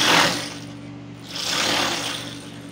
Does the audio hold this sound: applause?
no